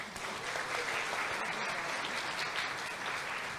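A church congregation gives a round of applause for Natália during a Sunday homily, steady dense clapping throughout at fairly low level, heard alone.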